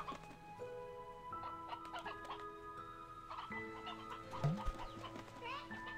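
Hens cluck in the farm video game Slime Rancher 2, a soft, scattered burst of clucks set against a steady game music backdrop. No one talks.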